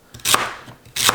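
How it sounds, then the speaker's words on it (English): A knife chops through celery on a cutting board in two quick bursts of crisp crunching, close and fairly loud, with a short pause between them. "Chopped celery."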